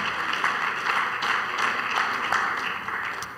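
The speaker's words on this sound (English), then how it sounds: "would somebody clap their hand unto the Lord?" A church congregation claps along during a sermon, with steady overlapping handclaps blending into a continuous, moderately loud wash of applause that holds through the moment.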